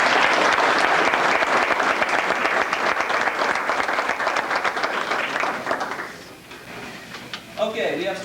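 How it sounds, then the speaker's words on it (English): An audience at a high school baseball awards event applauds first-year award winners, a loud dense burst of clapping that fades out after about six seconds, followed by quieter room noise and a brief voice. "Can we have a round of applause for them?"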